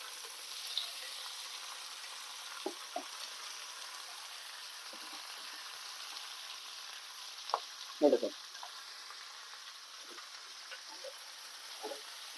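Curry leaves go into a frying cabbage, green peas and coconut mixture, giving a steady soft sizzle throughout with scattered small stirring clinks and scrapes, fairly quiet and close.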